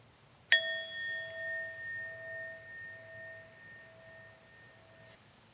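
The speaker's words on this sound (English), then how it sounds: "we ring the bell throughout the ritual" A single bell strikes once at a remembrance service and its clear tone rings on, slowly fading over several seconds in a quiet room.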